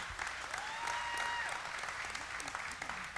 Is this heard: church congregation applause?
yes